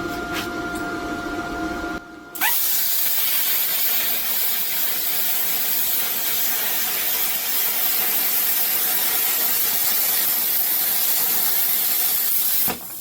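Arctaylor Cut55P plasma cutter slicing through 1/4 inch steel, a loud steady roaring hiss that starts abruptly after a brief tonal whine and holds nearly constant to the end.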